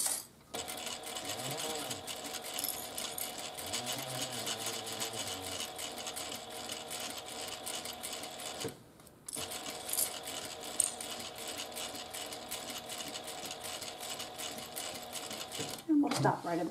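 Domestic sewing machine stitching the lining of a fabric wristlet, a fairly quiet rapid mechanical whir running in long stretches with a brief pause midway, while a person talks over it.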